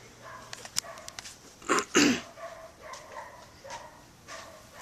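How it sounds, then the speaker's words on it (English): A dog barks a couple of times at a distance, two short sharp bursts with quieter indoor noises around them. "Excuse the dog, I know you guys hear it all the time."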